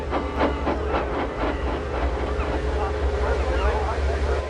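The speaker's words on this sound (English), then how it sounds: "This is the train the railwaymen call the Flying Kipper." A train known as the Flying Kipper chuffs with a rapid, regular rhythm under a continuous low rumble, fairly close, while a voice talks over it.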